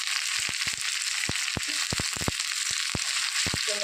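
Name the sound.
ginger and curry leaves frying in a pan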